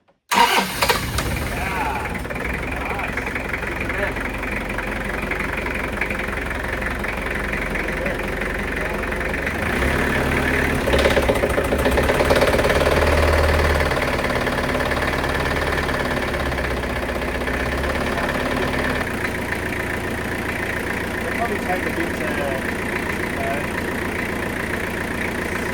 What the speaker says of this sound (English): now that we know that this engine's running